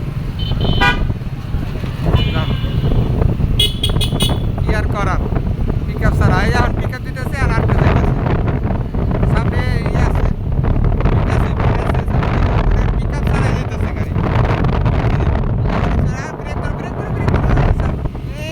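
A Suzuki Gixxer motorcycle engine runs steadily while riding, with a constant loud roar and rushing wind across the microphone from start to finish. A voice may speak over it.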